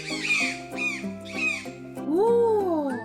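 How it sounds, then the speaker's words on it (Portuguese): A toucan gives a run of hoarse, croaking calls in a repeating rhythm, ending in a longer drawn-out squawk, loud and close over soft background music. "Este é o som do tucano."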